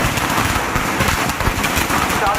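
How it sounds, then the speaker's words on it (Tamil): Firecrackers burst during a street welcome for an election candidate in Tamil Nadu. A rapid, continuous string of sharp cracking pops fills the short stretch without pause, loud and close. "தேமுதிக வேட்பாளர் பார்த்தசாரதிக்கு தொண்டர்கள் பட்டாசு வெடித்தும் சால்வை அணிவித்தும் உற்சாகமாக வரவேற்பளித்தனர்."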